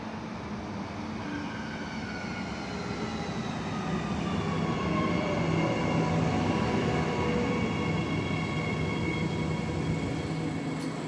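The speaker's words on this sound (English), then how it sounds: "we got an airport line train coming in the other direction" An airport line train passing on the opposite track, a steady, moderately loud rumble that swells slightly in the middle, with faint rising and falling tonal whines from the motors and no talk.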